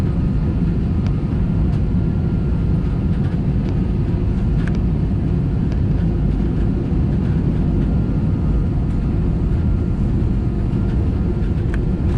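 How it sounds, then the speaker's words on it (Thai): A Thai Vietjet airliner on flight VZ304 descends low over the beaches toward Phuket airport, its engines a steady, loud, unbroken roar that fills the cabin. "เดี๋ยวไปชมบรรยากาศตอนเครื่องบิน ลงที่ภูเก็ตนะครับ"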